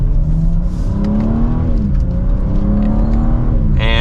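A 2025 BMW M4 Competition xDrive accelerates hard from inside the cabin, its engine note climbing steadily through the gears with a brief dip at a shift, loud and continuous, ending in a short burst of rushing noise.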